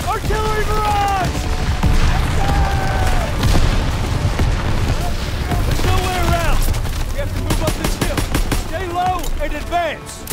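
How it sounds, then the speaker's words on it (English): Artillery barrage in the Call of Duty WWII campaign: a dense, continuous roar of booms and rapid gunfire across the whole stretch, with shouted voices cutting in over the chaos. "Artillery barrage!"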